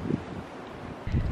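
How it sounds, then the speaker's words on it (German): Strong, stormy wind blowing outdoors, roaring steadily across the microphone with a louder gust surging near the end; no one speaks. "Also Schnee ist weg, zumindest hier, aber es gibt ziemlichen Wind."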